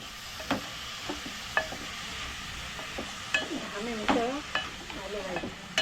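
Cashews roast in hot ghee for carrot halwa, a soft steady sizzle broken by scraping stirs and light clinks of a spoon against the pan, with a voice briefly audible.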